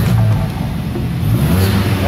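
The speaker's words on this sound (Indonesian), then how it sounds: "Nah, ini suara yang kebuka katupnya" A Volkswagen Scirocco engine revs with its exhaust valve open, giving a loud, close, continuous low rumble that holds steady for the whole stretch.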